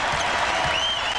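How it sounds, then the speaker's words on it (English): Basketball arena crowd at Villanova's home game against Georgetown rises in a sustained roar of cheering and applause, loud and dense throughout with no break. "They stand up and cheer."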